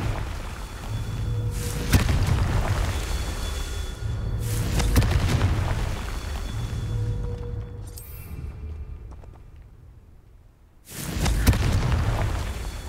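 Confringo blasting spell detonations from Hogwarts Legacy: repeated loud booming bursts with rumbling low-end tails, one dropping into a brief quieter gap before another heavy blast.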